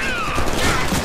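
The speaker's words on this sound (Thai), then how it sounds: "ใครยิงใครยิง" Rapid gunfire from the Deadpool video game rattles densely and continuously at close range, filling the short moment with layered shots and mechanical clatter.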